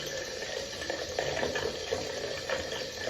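Water runs steadily from a tap, a continuous broadband hiss and splash that stays even and close throughout with no talking.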